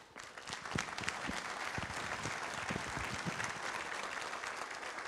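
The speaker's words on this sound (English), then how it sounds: "they all deserve a round of applause." An audience at the 2013 KOSBE Awards in Kingsport applauds continuously, a dense wash of many hands clapping at a steady level from start to finish with no voices on top.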